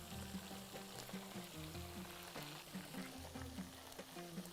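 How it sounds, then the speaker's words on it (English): Fish sizzles steadily in a hot pan for Bahraini matfi safi, a dense, even frying hiss running throughout with no voices, while low tonal notes sit faintly underneath. "I'm going to flip the second side of the fish."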